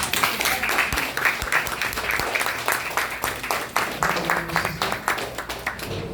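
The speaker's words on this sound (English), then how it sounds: "We probably should clap it up for her." Audience applause greets sister Angie Lee as she arrives at a wellness talk at Angela Yee's Juice For Life in Brooklyn, with dense, sustained clapping mixed with crowd chatter running steadily throughout.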